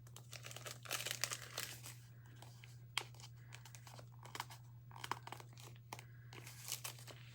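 Crinkly paper rustling and peeling of a laundry sticker lifted from an Erin Condren planner sticker sheet, a run of soft crackles and small tearing snaps close by over a steady low hum, with no talking.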